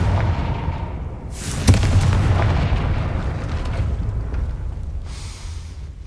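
A Confringo blasting spell explodes in Hogwarts Legacy with a loud booming burst that rolls into a long, rumbling decay, followed by a fainter hissing swell near the end.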